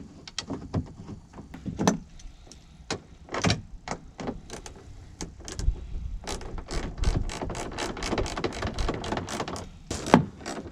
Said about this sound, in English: go ahead and run your 2 10mm bolts in. Just make them nice and snug.